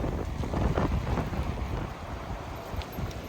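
Gusty spring wind outdoors at a New England ski area, buffeting the microphone with a steady, loud low rumble and roar throughout, no voices.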